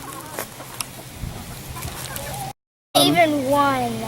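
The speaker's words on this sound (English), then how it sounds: "go feed the chickens" Backyard chickens cluck softly while pecking at watermelon, mixed with children's and adults' voices talking over them.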